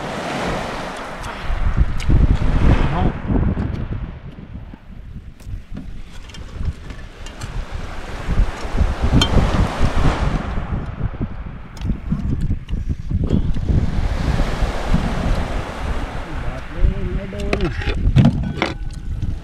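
Waves wash and surge at sea beside a boat while strong wind buffets the microphone, rising and falling in loud swells with voices faintly underneath.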